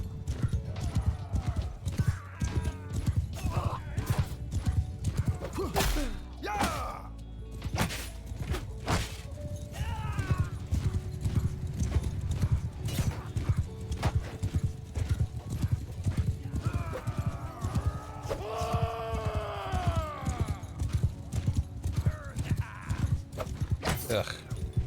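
Horses gallop with steady clip-clop hoofbeats and an occasional whinny amid a Mount & Blade II: Bannerlord battle, with clashing combat effects and talk over the top throughout.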